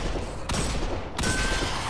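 Gun firing in Destiny 2, continuous rapid fire with two sharp, loud shots cutting through, close and upfront with no talking.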